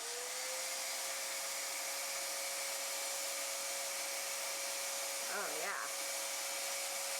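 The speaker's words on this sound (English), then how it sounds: "So I'm gonna try to get in there with the vacuum and see." A vacuum cleans the bobbin area of a 1964 Singer 600 Touch N Sew sewing machine, a steady, close, high whine that runs throughout. A person speaks briefly near the end.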